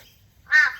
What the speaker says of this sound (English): Mr. Crow, there's food. It's just not the food you want. Listen to him.